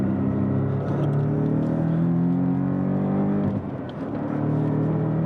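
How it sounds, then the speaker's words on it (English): Porsche 718 Cayman with a 2.0L four-cylinder turbo accelerating in sport mode, heard from inside as a steady loud engine drone rising in pitch, with a brief dip near the end before pulling again. "Obviously the 4-cylinder turbo doesn't sound as good as a naturally aspirated flat 6, but it makes good power"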